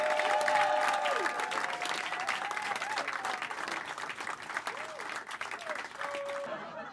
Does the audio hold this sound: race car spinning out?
no